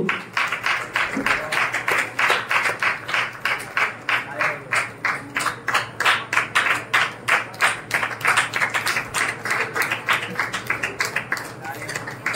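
An audience in a Baptist church claps in a long run of sharp, steady claps, loud and close, with a room murmur underneath.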